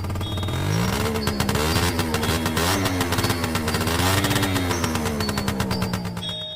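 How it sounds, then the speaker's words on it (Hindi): A scooter's engine revs and speeds up, its buzzing whine rising and wavering in pitch over a rapid sputtering beat. The sound stays close and loud throughout, with no talking. "बुल्ली स्कूटर को थोड़ा और तेज कर देता है"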